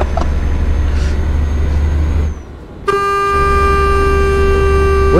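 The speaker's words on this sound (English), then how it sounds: "What are you honking at?" Car horns honk in a driving video game, a steady sustained blast at close range over engine and road rumble after a brief drop in the game sound.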